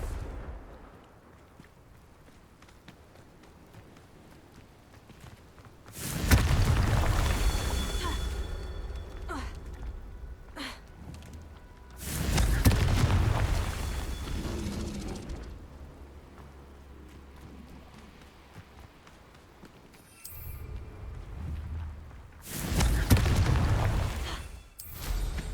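Confringo fire spell blasts in the video game Hogwarts Legacy, several heavy booming explosions with rumbling tails spaced a few seconds apart over quieter background sound, with a voice briefly speaking.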